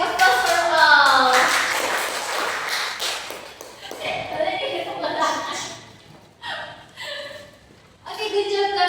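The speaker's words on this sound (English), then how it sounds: "big applause for all" A classroom of students claps after a math game, a burst of scattered applause lasting a few seconds and mixed with voices and chatter, then fading as a teacher speaks again.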